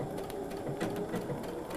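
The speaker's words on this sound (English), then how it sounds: "So you're just going to stitch this down all the way around, pivot at the point, rotate it, and continue stitching." Steady rapid whirr and clatter of a sewing machine with an open toe foot stitching down a quilt, close and continuous.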